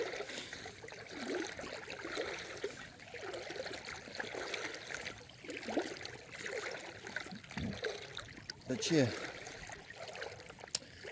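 A shallow creek, its flow altered by a recent storm, trickles and babbles steadily nearby, with wind and outdoor noise mixed in and a brief spoken phrase near the end.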